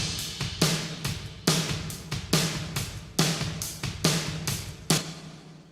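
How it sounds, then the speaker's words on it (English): A drum kit captured by room microphones plays a steady groove of booming kicks and snare hits with washy cymbal ambience, each hit decaying into a roomy tail at moderate volume. "we got the microphones that were used to record the sound coming out of the entirety of"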